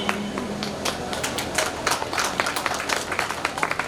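Audience applause for a poem at a Hindi poetry recital, a steady spread of many hands clapping with loud individual claps that continue evenly throughout.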